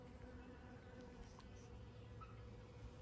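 Honeybees buzzing around a backyard hive, a steady low drone from many wings that stays faint and continuous with no voices.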